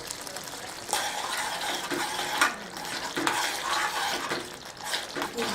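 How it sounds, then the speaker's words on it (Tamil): Steady stirring and scraping of spicy chutney in a pan with a bubbling, simmering background, occasional clinks of a utensil against the metal. "நல்லா கலக்கி விட்டுடுங்க"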